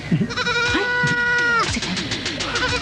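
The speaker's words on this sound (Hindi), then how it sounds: "बकरी की नहीं, बकरे की आवाज है, और आ भी रही है सलमा के घर से।" A male goat bleats repeatedly at close range, several wavering, nasal calls in quick succession with short gaps between them.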